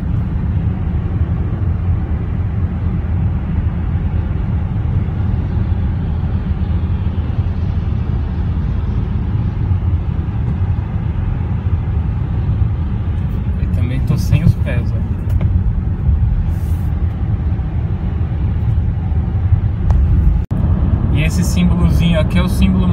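A Volvo XC90 driving on the German Autobahn gives a loud, steady rumble of road and engine noise inside the cabin, with a few faint clicks near the end.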